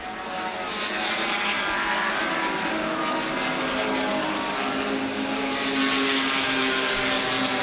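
Front-wheel-drive compact race cars on the Lucas Oil Raceway oval in Indianapolis, engines roaring continuously at high revs as the pack runs through the turns, loud and sustained without a break.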